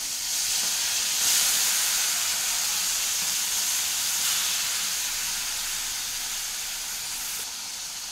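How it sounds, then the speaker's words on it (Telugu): Soaked tamarind juice hits a hot pan and sizzles with a steady, bright hiss of steam that swells briefly and then settles, with no voices. "చింతపండు పులుసు వేసుకుంటున్నాను ఇక్కడ"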